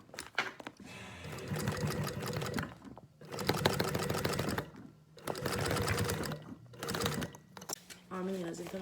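Sewing machine stitching a travel toiletry bag with a clear window, running in three long rattling bursts separated by short pauses, with someone talking over and between the runs.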